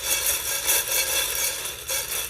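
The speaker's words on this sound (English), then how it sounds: "I put some beans in my drum." Continuous dry rattling and rustling of beans rolling across a taut drumhead, steady with gentle swells, no voices.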